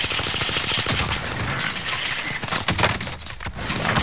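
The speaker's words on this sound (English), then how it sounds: "I'm getting shot at southwest" Gunfire in the video game Call of Duty: Modern Warfare, dense overlapping bursts of automatic fire and explosive cracks, loud and continuous throughout with no pause.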